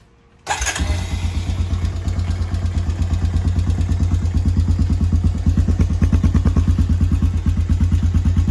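A 2007 Honda Sportrax TRX250EX ATV single-cylinder engine catches abruptly and settles into a steady, loud, close idle with a fast, even thumping pulse that barely varies.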